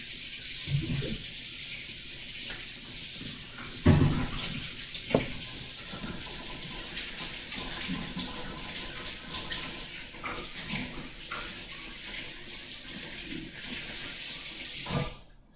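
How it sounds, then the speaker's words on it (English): Tap water runs in a kitchen sink as someone washes their hands, a soft steady hiss with a few light knocks and splashes along the way. "do you want to wash your hands?"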